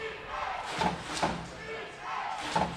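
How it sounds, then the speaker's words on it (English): A home crowd of Royals fans roars at a high school playoff football game at the Jungle, with swells of distant cheering rising and falling in bursts over steady background noise. "As we hear that Royals crowd, Jaden, it is definitely a playoff atmosphere here at the Jungle"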